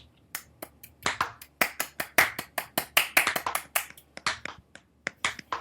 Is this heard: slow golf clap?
yes